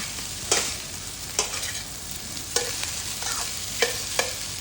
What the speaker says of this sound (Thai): ก็ใช้ไฟกลางนะครับ ก็คั่วผัดข้าวไปเรื่อยๆ ครับ